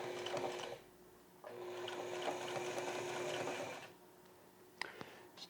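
A sewing machine stitches a collar into a T-shirt band, running in two close, steady bursts of rapid whirring separated by a brief pause, followed by a couple of small clicks.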